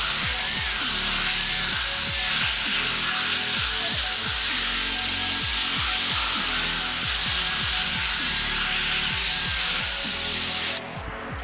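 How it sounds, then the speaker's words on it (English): A power drill whirs steadily while its spinning brush scrubs a dirty carpet in repeated strokes, loud and close, stopping just before the end. "I'm going to take the drill brush and I'm going to go over it a few times."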